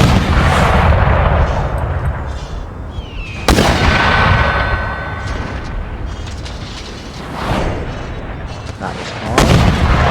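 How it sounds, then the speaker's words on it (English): Cannon fire in Empire: Total War during a siege, several loud booming cannon shots spaced a few seconds apart, each with a sharp crack and rolling rumble over continuous battle noise. "Another guy got hit by a cannonball. Whichever cannon that is,"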